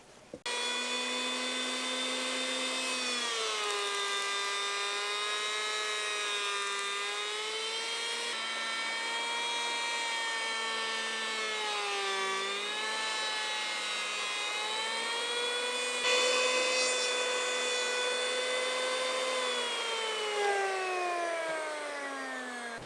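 An electric hand planer shaves a timber framing beam, giving a continuous high, harmonic whine for over twenty seconds. Its pitch dips and rises as the cut load changes, and no one speaks.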